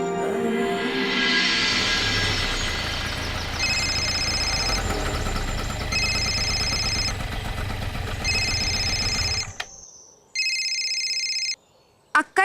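A telephone rings in repeated electronic bursts, evenly spaced tones sounding over a steady background hum that then cuts out, leaving the last ring isolated before brief clicks at the end.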